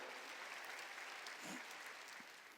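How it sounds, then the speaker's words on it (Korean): A church congregation at a Korean Jesus-centered church service applauds in a steady, continuous wash of clapping that sounds faint and distant, without any voices on top. "박수로 하나님께 영광 드려요."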